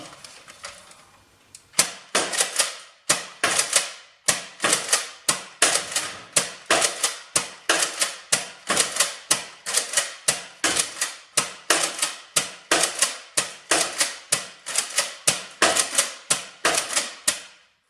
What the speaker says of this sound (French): J'ai mis 15 fléchettes AccuStrike et on va essayer de lui tirer dans la tête.